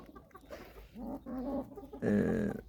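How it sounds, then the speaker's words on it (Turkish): Several Ameraucana chickens cluck and murmur close by in short bursts, growing louder toward the end, with no talking. "Evet bunlar Amerikanlılarımız"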